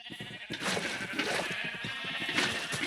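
Sheep in the Minecraft video game bleat repeatedly in overlapping calls, close and fairly loud, with no talking over them.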